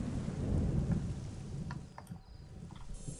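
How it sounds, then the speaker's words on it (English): Storm miracle in Black & White, a heavy low thunder rumble over steady falling rain, loudest at first and then easing off, with a few faint chirps. "We do have a storm miracle."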